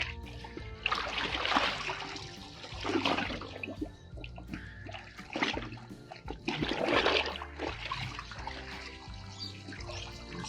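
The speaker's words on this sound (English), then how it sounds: "So just rinse it off in some water," Deer hide being rinsed in water to wash off tanning solution, with sloshing and splashing in bursts of varying loudness, close by, with no talk.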